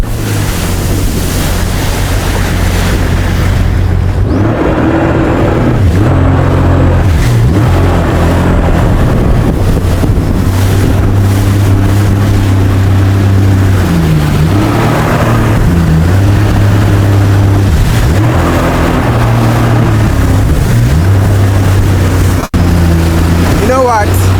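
A jet ski ridden at Adome Bridge, its steady engine drone mixed with heavy wind buffeting and splashing water throughout, with a voice talking over it.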